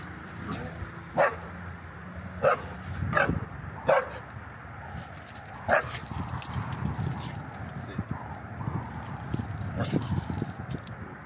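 A young dog named Hudson barks in sharp, separate bursts during play on his first day home, the barks spaced a second or two apart over a rustling, scuffling background while a person talks.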